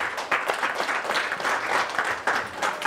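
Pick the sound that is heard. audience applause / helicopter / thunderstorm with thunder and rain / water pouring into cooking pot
audience applause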